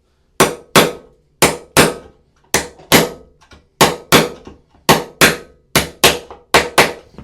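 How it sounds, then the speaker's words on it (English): A hammer drives a chisel at an angle into a shim under a toilet being installed, striking about eighteen sharp, loud, ringing blows in quick pairs and short bursts, close and alone without speech. "We're going to take our chisel and a nice angle."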